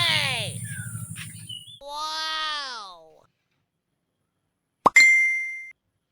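A short phone message notification tone chimes once, loud and close, right after a stretch of lively talk in a Bengali comedy drama scene.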